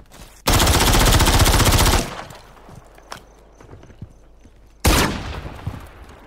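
Enemy gunfire in Call of Duty, a loud, close automatic burst lasting about a second and a half, then quieter scattered shots, then another sharp burst that fades.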